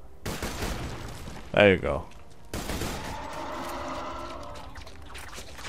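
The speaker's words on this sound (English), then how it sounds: "I'm gonna use my explosive pistol on this guy. It seems to work quite well." Explosive pistol shots in the video game Borderlands 2 crack out as a short burst of blasts against a sci-fi background soundscape, with a voice speaking briefly in between.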